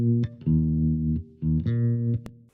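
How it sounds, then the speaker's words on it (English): Synth bossa bass run through a frequency shifter for a wobbly wavetable texture, a syncopated line of held notes with slightly smeared, shimmering upper harmonics, loud and with no other sound. "the only thing interesting about the bass is this frequency shifter, which makes this wobbly wavetable."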